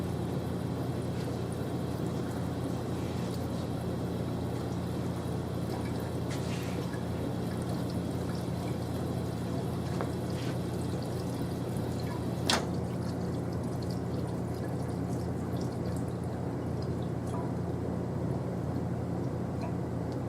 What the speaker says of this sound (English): We're going to rinse this off with water for 10 seconds.